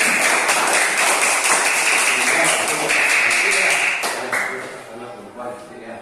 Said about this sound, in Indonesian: Tepuk tangan buat Dinda ya